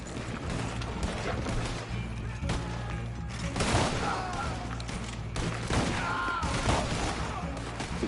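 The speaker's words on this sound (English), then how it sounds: "they're having a big shootout here" Dense gunfire crackles through a chaotic shootout in the Red Dead Online video game, repeated shots overlapping in rapid bursts over a rumbling low background, with hooves clip-clopping faintly in the mix.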